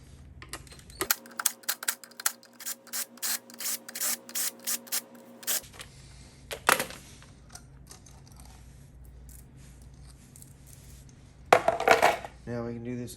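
Clutch spring bolts being removed from a KX125 dirt bike, a rapid run of sharp ratcheting clicks from a tool, then scattered metallic clinks and rattles, close up with a low steady hum underneath.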